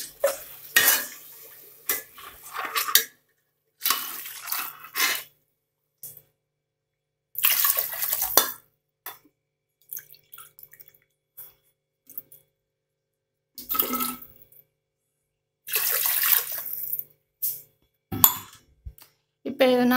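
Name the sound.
pouring water into pot for kodo millet biryani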